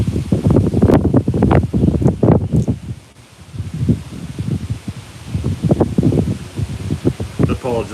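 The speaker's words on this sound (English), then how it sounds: "Apologize for the wind. We're supposed to have up to 50-mile-an-hour gusts today." Outdoors in gusts of up to 50 miles an hour, wind buffets the microphone with loud, rough low rumbles that rise and fall in surges, briefly dropping before surging again.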